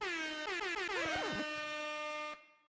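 A loud, blaring soundboard air horn effect sounds alone, its pitch wobbling and bending midway before holding steady and cutting off.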